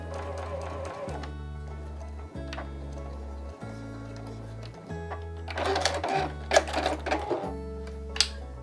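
Electric sewing machine stitching a zipper onto a fabric pouch, loud rhythmic bursts of rapid mechanical chatter separated by short pauses, with quieter handling sounds between runs.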